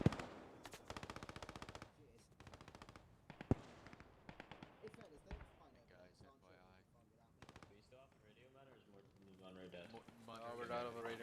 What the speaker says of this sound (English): the British squad here has been held up, pinned by machine guns